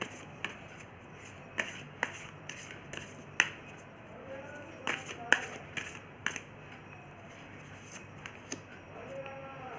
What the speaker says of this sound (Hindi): सो सॉरी गाइस, मैं फिर से कार्ड को शफल कर लेती हूँ।